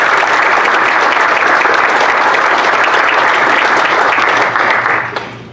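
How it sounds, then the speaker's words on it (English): A city council meeting audience applauds a group of boys, producing loud, dense, sustained clapping from many hands that holds steady before tapering off at the end, with no voices heard over it. "Again, a round of applause for our friends here."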